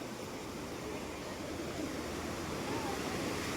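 Constant rushing water of Lakkom Waterfalls in Kerala roars evenly throughout, a broad steady wash of sound with no pauses.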